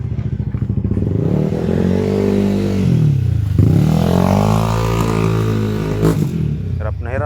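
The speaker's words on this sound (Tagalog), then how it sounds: "Hirap na hirap yung motor" Motorcycle engine straining and revving, loud and close, pitch sweeping down then climbing back up in a long drawn arc, with voices talking over it.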